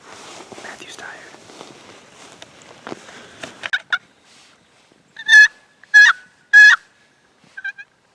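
Wild turkeys gobble during an Ohio youth turkey hunt. Three loud, rattling gobbles come in quick succession after quiet whispered talk, followed by a fainter short call near the end.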